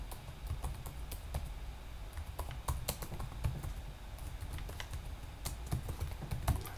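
Typing on a computer keyboard, a steady patter of quick close key clicks with a few louder taps, running continuously and alone.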